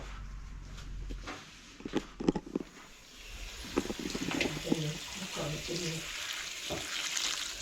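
Cold water poured into a container to soak bread for homemade meatballs, a close splashing, gurgling pour with a few clinks and handling knocks, continuing to the end of the clip.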